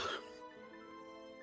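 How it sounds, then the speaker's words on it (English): A single short cough picked up up close on a microphone during a tabletop role-playing session, sounding as a sharp burst that fades into a faint hum. "Sorry, I didn't mean to cough on the mic."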